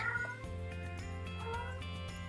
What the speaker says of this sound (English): Sorry, my cat is crying.